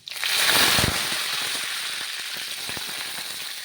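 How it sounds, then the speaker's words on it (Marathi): Curry leaves drop into hot oil for tempering a moth bean curry, bursting into a loud, close whoosh of sizzle that settles into steady hissing dotted with sharp crackles. "तो फोडणीसाठी कडीपत्ता टाकणार आहे"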